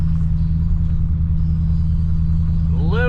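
A car driven on the road right after wheel spacers were installed, giving a loud, steady, close engine and road rumble from inside the cabin, with a faint rising whine near the end.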